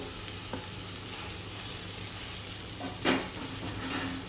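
Grated raw banana mash stirred in a hot pan, a soft steady sizzle with a couple of scraping knocks from the spoon, close and fairly quiet, no talking.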